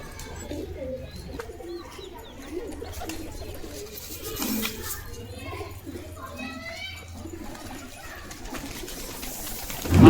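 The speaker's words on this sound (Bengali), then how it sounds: "কবুতরগুলো খাওয়ার টাইম হয়ে গেছে, এবার খেতে দেবো।" Pigeons coo steadily at feeding time, low and continuous under the voices of a man and children nearby, with a louder bump at the very end.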